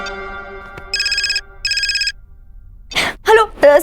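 A telephone ringtone sounds twice as two bursts of electronic trilling over a soft musical background, followed by someone speaking briefly.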